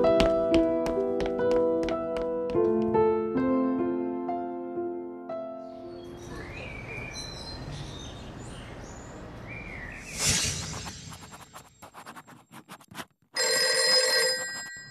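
A telephone bell rings in a Vietnamese animated fairy-tale film, loud repeated rings cutting in after a stretch of music and bird-like chirps, with the last burst standing alone and clear.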